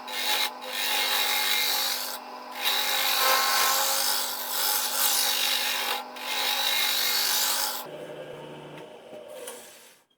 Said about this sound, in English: There's still quite a lot of hollowing to do before it's down to the right depth.